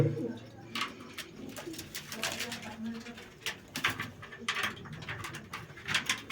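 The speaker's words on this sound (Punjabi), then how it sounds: "ਇਹ ਕਬੂਤਰ ਹੈਗੇ ਆ ਜੀ" Pigeons coo repeatedly in low, throaty bursts, close by, mixed with occasional flutters and faint background voices.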